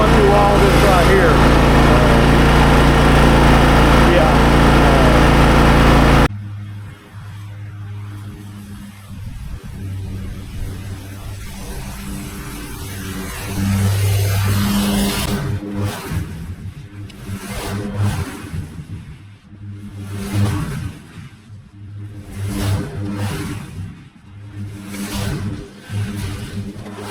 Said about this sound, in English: I'm on my main mower, and I got going down.